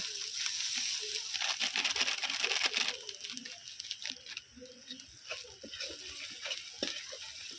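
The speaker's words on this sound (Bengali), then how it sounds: "সব কিছু আবারও খুব ভালো করে কষিয়ে নিচ্ছি মশলাটা যাতে না পুড়ে যায়" Ginger, garlic and spice paste with turmeric and red chilli powder fries in a pan, giving a soft, steady sizzle broken by scraping stirs, fairly quiet and close.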